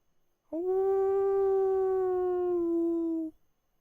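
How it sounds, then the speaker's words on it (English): A lone canine howl in open grassland, a single sustained tonal call with rich harmonics held steadily for nearly three seconds and ending cleanly, loud and alone with no talk. "just a lone howl out in the woods, or out in the grasslands"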